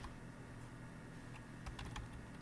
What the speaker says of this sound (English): Okay, I'll type it in with you.